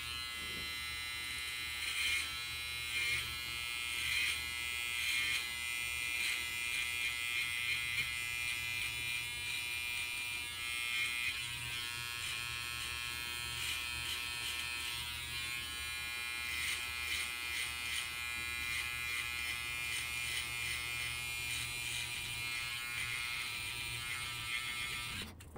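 An electric shaver buzzes continuously and steadily at close range for the whole stretch while it trims hair on a neck, its high whine wavering slightly as it moves across the skin.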